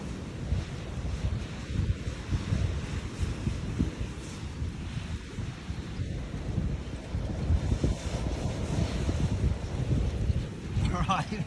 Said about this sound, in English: A little bit windy, which is going to be good.